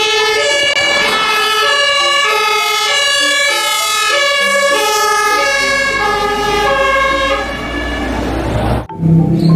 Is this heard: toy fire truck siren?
yes